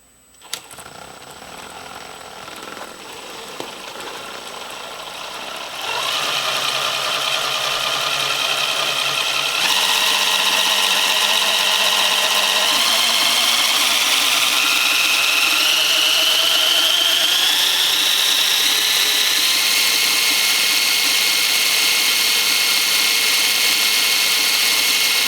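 A 55-turn brushed motor in an RC Humvee runs steadily near the microphone as its throttle is tested, a whirring drone that climbs in pitch as it speeds up, with no talk.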